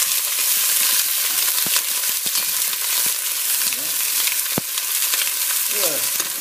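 Chicken pieces brown in a hot frying pan with a steady, bright sizzle, broken by occasional sharp clicks and scrapes of stirring, heard close with no talk over it.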